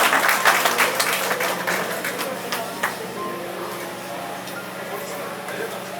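An audience applauds after a Hindi poem recital at a kavi sammelan, with loud, dense clapping that fades to a lighter patter as a voice speaks over it.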